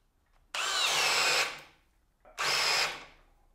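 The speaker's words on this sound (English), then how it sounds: "This is the only other half-inch Chuck hammer drill brushless tool that I have that's not 12 volt." Flex brushless half-inch chuck hammer drill, not 12 volt, running free at full trigger in two bursts of about a second each with a high whine that spins down after release.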